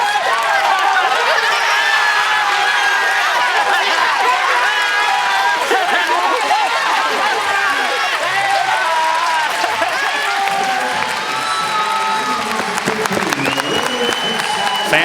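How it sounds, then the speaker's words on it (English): Stadium fans at the 2015 Little League World Series final between Japan and Lewisberry cheer and applaud in a broad, continuous roar, with a commentator talking over the crowd throughout. "Fans on the Lewisberry side cheering, same as those on Japan"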